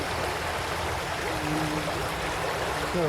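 A Southwest Virginia creek flows steadily over debris-choked ground upstream, a continuous broad rushing wash with a low murmur underneath, close and even throughout with no talking.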